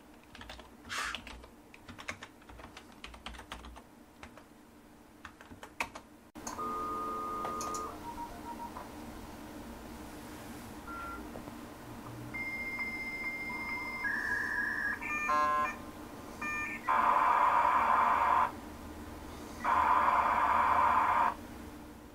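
Internal modem on a Windows 95 computer dialing out over a phone line: clicks and keyboard taps, then a dial tone, quick DTMF dialing beeps, squealing handshake tones and two loud bursts of hissing static as the connection is made.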